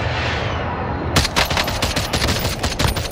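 Video game gunfire: a steady background rumble, then from about a second in, rapid crackling shots in a dense run of sharp bursts that carries on to the end.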